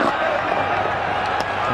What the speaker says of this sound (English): And the crowd appreciating this partnership